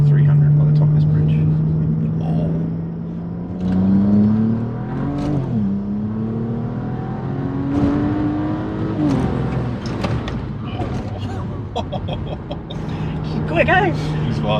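A BMW E90 car accelerates hard with a sustained engine tone rising in pitch, dropping back and climbing again through gear changes, heard loud from inside the cabin, with occasional voices over the engine.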